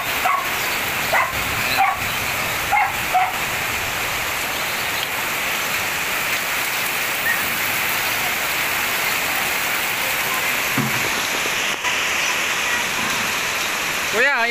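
Heavy rain pours steadily in San Jose del Monte, Bulacan, a dense continuous hiss throughout with a few faint voices and a distant dog bark or two underneath.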